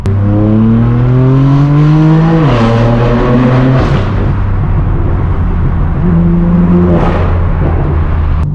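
A straight-piped BMW M4 F82 in sport mode revs hard, its loud, raspy exhaust climbing and dropping through several pulls and crackles, close and continuous throughout.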